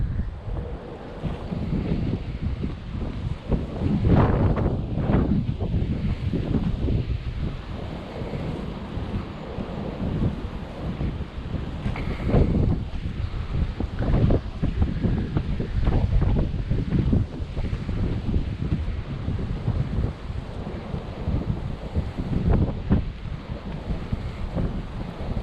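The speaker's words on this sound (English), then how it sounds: "I try to block the wind" Strong gusts of wind buffet the microphone over an open nature preserve with a small pond and wetland, a continuous rumbling roar that rises and falls in waves, loud and close, with no speech.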